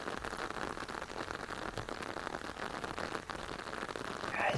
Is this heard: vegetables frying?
no